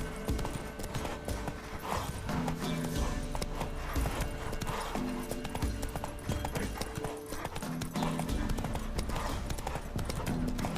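Roach, a horse in The Witcher 3, gallops in a steady, repeating clip-clop rhythm of hooves with an occasional whinny, set against game music and sound effects, with someone speaking briefly.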